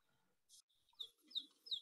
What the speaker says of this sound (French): ça, c'est le cri de détresse des jeunes